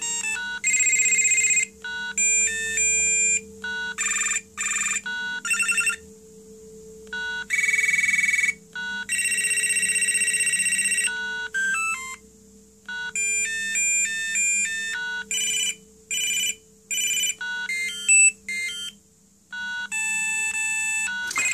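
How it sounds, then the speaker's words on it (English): A 1995 Motorola TeleTAC GSM1800 mobile phone plays one bright electronic ringtone after another, near and loud. Beeping melodies come in clipped bursts with short pauses between them, over a steady low hum. "Why would you have that as a ringtone?"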